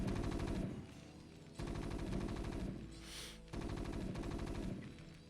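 A Marine in StarCraft Brood War firing its gun in sustained rapid bursts, three long loud stretches of chattering fire separated by brief lulls, with no talking.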